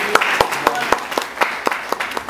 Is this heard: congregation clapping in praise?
yes